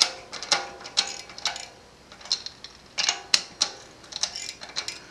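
Bolts on a Shimano XT RT86 Ice Technologies six-bolt disc rotor are tightened in a cross pattern, giving close, crisp bursts of rapid ratcheting clicks with short pauses between each bolt, no talking.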